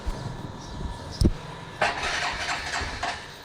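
A motorcycle engine cranks with a sharp thump, then catches and runs at a rough idle nearby, rising and dipping briefly.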